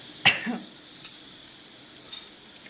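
A single sharp cough up close, followed by a couple of faint, brief throat sounds in an otherwise quiet room.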